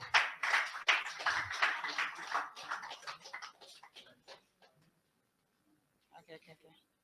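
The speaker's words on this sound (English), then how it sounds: "Please just clap for him as he comes up." An audience claps for a presenter coming up to speak at a Web3 conference talk; dense, loud applause for about four seconds fades out, followed by a short quiet gap and a few faint claps.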